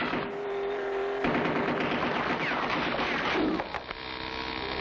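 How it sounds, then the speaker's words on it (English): Cartoon gunfire from a gun turret along a rocky road sounds as a dense, continuous rattling fusillade with a steady mechanical hum underneath, loud and unbroken for the whole stretch. "they're firing on us from the gun turret"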